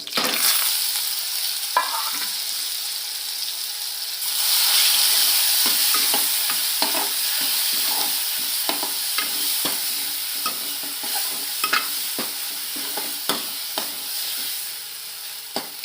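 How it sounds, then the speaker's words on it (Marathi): A ground spice paste of garlic, ginger, turmeric and salt, for a spicy urad dal curry, is stirred and roasted in a pan with curry leaves, cumin and mustard seed, giving a steady sizzle broken by repeated scraping strokes. "असं वाटण आपलं एक दोन तीन मिनटं भाजून घेऊया"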